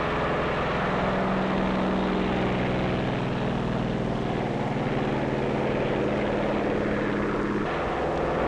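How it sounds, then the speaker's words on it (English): Propeller control planes take off from an aircraft carrier near Bikini Lagoon, their engines droning loudly and steadily with a sustained roar that shifts pitch near the end. "Also taking off from the carrier are control planes that will guide the radio-controlled drone boats."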